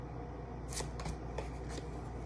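A deck of tarot cards is shuffled up close in a few quick riffling bursts, each a soft papery flutter with small taps between, over faint background hiss.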